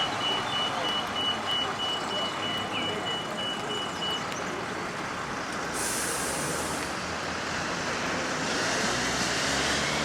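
Tour bus reversing below the lower wall of Holy Trinity Church in Bardejov, Slovakia, sending out a steady series of faint, distant beeps over broad outdoor traffic and wind noise, with a hiss of air brakes midway.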